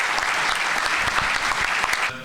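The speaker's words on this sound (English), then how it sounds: "let's give Gabriella another round of applause" Audience applause fills an awards ceremony for the Keep Louisiana Beautiful Everyday Hero Awards, a dense steady wash of clapping from a large crowd that ends abruptly after about two seconds.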